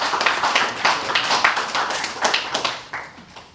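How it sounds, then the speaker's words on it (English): An audience claps after a speaker's talk, rapid individual hand claps forming lively applause that thins out and fades toward the end, close and fairly loud. "Y'all keep clapping for me if you want to."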